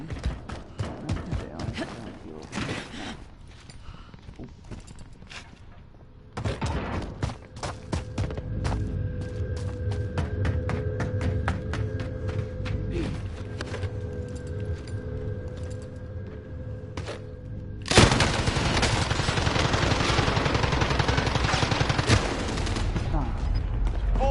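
Video-game gunfire bursts in rapid clattering volleys, with a steady mechanical hum behind the shots and a louder, denser stretch of firing near the end; no talk is heard.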